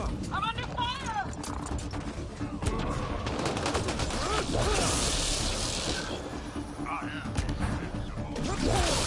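Gunfire in the Mass Effect Andromeda video game during a hostile encounter, dense bursts of shots and mechanical clatter mixed with a busy battle soundscape, with voices talking over the action.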